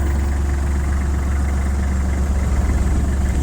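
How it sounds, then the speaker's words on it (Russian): A Kubota GL-21 tractor engine idles steadily and evenly at close range, a smooth continuous low rumble with no other sounds. "слышно уже сейчас, что работает трактор отлично, ровно"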